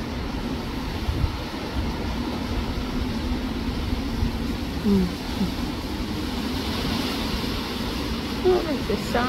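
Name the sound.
wind blowing on a rainy day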